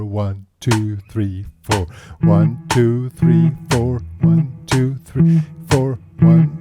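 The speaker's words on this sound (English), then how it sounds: "that's a click, metronome" Sharp metronome clicks keep a steady four-beat pulse during a blues guitar lesson, nearly hidden under a man counting aloud on each beat.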